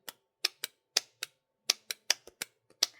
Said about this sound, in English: it really gets you to control the deck when you riffle it